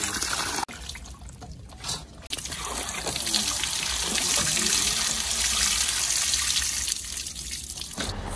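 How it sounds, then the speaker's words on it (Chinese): Chili peppers being rinsed under a steady stream of running water from a tap, a continuous splashing wash that runs the whole time with two brief breaks near the start. "我们多用水给它冲洗几遍"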